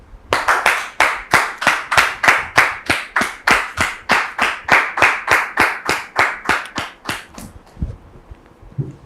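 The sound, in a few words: studio audience applause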